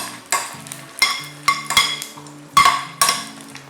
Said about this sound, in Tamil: அதோட அப்படியே யூஷுவல் நம்மளோட ரெட் சில்லிஸ் சேர்க்குறேன். இதை வந்து வதக்கிக்கணும்